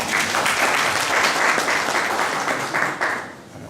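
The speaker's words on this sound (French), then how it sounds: "Je vais demander des acclamations pour vous, s'il vous plaît." A live audience breaks into sustained applause, dense clapping holding steady at a loud level before thinning and fading over the last half second.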